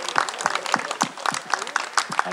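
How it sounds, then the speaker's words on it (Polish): Rhythmic clapping at the opening of new tennis courts, a fairly small crowd beating out an even, near-unison pulse of about two claps per second, close and moderately loud. "Gromkie brawa."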